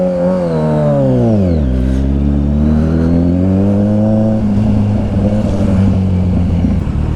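A Kawasaki Ninja 1000SX motorcycle set to rain mode pulls away on a wet road, its loud, close engine note dropping sharply before climbing steadily through the revs, then settling into a rough, sustained drone.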